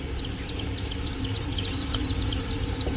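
Small chicks peep rapidly and repeatedly, high bright chirps overlapping in a quick, continuous chorus close by.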